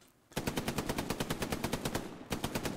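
Automatic gunfire in the video game Hell Let Loose during a night attack, with one rapid, evenly spaced burst of about twenty loud shots, a brief pause, then a few more rounds, close and alone.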